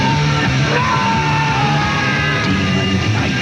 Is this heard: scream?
yes